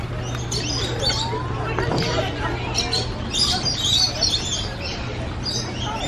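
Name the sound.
birds chirping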